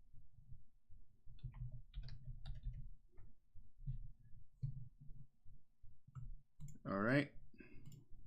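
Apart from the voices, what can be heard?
mouse clicking in Serato DJ Pro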